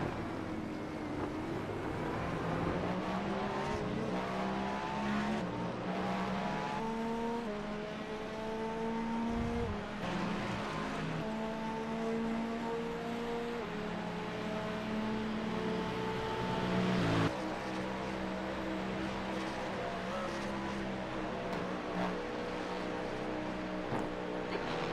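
Cadillac GTP race car at Le Mans, a loud sustained engine roar with repeated rising and falling pitch through gear changes, continuous throughout with brief dips.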